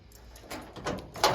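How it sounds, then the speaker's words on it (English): A door on a custom car latches with a few quick mechanical clicks and a short closing clunk at the end, close by and fairly quiet. "See, it locked the door."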